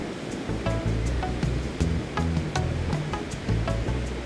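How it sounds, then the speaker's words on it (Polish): Large ocean waves break on the shore at Cádiz in a continuous, moderately loud surf wash, with faint tonal beeps and clicks scattered over the roar. "fale, jakie uderzają o brzegi, są zdecydowanie większe niż na morzu"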